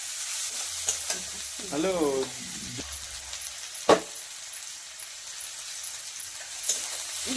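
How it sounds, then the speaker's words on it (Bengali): Garlic fries in a pan with a steady sizzle while a utensil stirs and scrapes. A short sharp clack sounds midway, and a voice briefly speaks near the start. "রসুনটা দিয়ে আবার একটু নেড়ে চেড়ে ভালো করে ভেজে নিতে হবে।"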